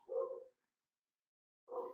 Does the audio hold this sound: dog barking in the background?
yes